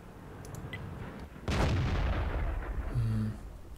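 French artillery fires in the World of Tanks video game, a single booming shot under a faint background rumble, followed by a brief lower thud.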